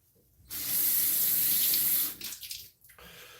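Tap water runs steadily into a sink for about a second and a half to wet a beard before shaving, close and fairly loud, then trails off into a few splashes and drips with no talking.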